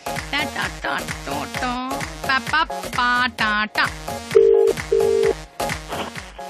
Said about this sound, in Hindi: चलो फोन नंबर लगाते हैं।